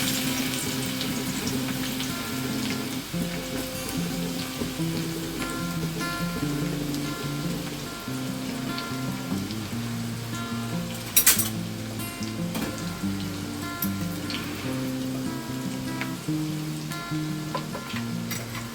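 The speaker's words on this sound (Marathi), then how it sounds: "तेल तापलं की आपण त्याच्यामध्ये या 7-8 पाकळ्या लसणीच्या ठेचून घेतलेल्या आहेत त्या घालूया." Crushed garlic cloves, seven or eight of them, sizzle steadily in three spoons of hot oil in a pan, a dense continuous crackle with a brief louder spatter midway and no talking.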